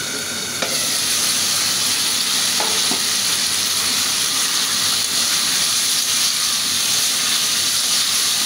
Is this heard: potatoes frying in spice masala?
yes